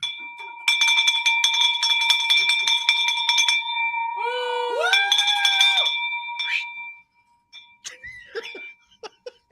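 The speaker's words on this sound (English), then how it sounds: "Drop that bell." A bell rung to celebrate closed real estate deals gives bright, rapid metallic ringing for several seconds, followed by laughter and voices as the ringing fades.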